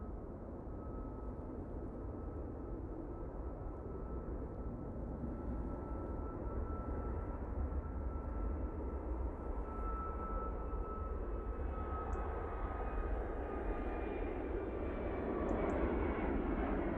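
A Malta Air Boeing 737 MAX 8 jet at a snowy Manchester Airport produces a steady, faint, distant engine roar with a thin sustained whine, continuous and unbroken, with no voices.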